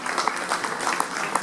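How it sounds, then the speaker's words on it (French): Crowd applauding at a semi-marathon event in Beaune, a steady brisk patter of many hands clapping with a few distinct sharp claps, fairly loud and continuous for a moment. "On peut l'applaudir, Madame Amélie Cazé."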